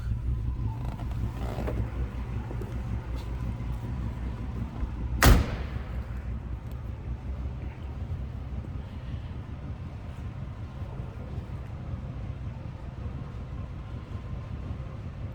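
A 1976 Oldsmobile Delta 88 sedan engine idles on continuously with a steady low rumble, with one brief sharp click or knock standing out near the start.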